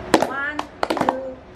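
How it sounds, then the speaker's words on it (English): Hands clapping during a traditional Fijian welcome ceremony, several sharp close claps in quick bursts mixed with voices speaking nearby. "Then we need to clap 3 more times just to show a little bit of respect."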